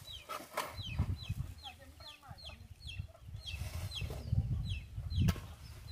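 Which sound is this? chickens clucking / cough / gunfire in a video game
chickens clucking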